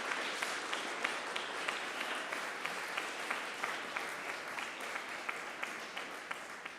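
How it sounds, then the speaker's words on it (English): Audience at a student video contest award recognition applauding steadily, a dense, even patter of many hands clapping that holds throughout with small sharp peaks and no talk. "Let's give a huge round of applause for all the students,"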